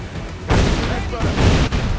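Ship cannons fire in Assassin's Creed 4 Black Flag as a heavy boom hits midway, rumbles on, and a second blast follows soon after, loud and close.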